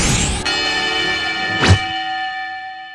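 A boxing ring bell in the Hajime no Ippo anime strikes once, a bright metallic ring that hangs and slowly decays, with a short thud just before.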